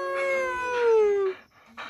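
A farm dog howling at close range, one long wavering howl that slides downward in pitch and breaks off, followed by a brief quieter vocal sound.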